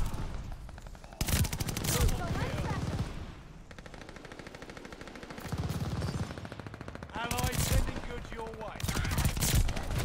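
Bursts of rapid automatic gunfire from the Call of Duty Vanguard video game come in loud, dense volleys separated by short quieter stretches, with game effects and occasional voices underneath.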